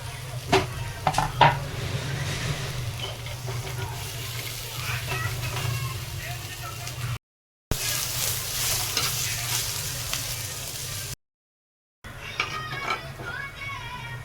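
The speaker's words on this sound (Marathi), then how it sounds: "आता कांदा भाजते कांदा आपण जेवढा चांगला भाजणार ना तेवढी भाजीला खूप छान चव येते" Sliced onion frying in a pan as Marathi-style misal masala is prepared, a steady sizzle with occasional stirring scrapes and utensil clinks, close and continuous with short gaps.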